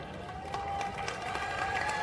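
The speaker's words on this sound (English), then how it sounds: "You're clapping at all my problems" An audience at a live Save Soil event in Nashik claps and cheers in a dense, steady burst with crowd noise mixed in.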